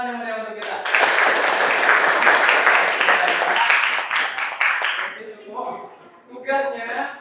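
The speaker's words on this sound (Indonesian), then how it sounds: "Tepuk tangan yang meriah untuk kita." Classroom students break into lively clapping after a greeting, loud and steady for about four seconds, then fading as a teacher's voice returns alongside scattered claps.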